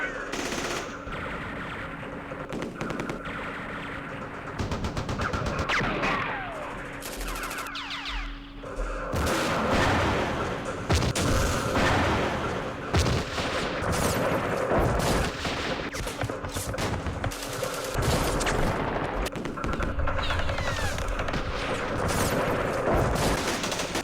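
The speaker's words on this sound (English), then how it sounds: "So many shots." Gunfire in the Vietnam war game Campaign Series Vietnam, dense continuous machine-gun bursts and rifle shots layered with distant booms, loud and sustained throughout.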